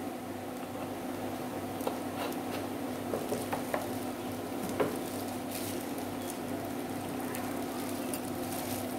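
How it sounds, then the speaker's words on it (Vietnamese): A utensil stirs fried rice with fish sauce in a hot pan, giving soft scraping and faint scattered ticks over a steady low sizzle, close and quiet with no talking. "Mình sẽ quậy đều lên"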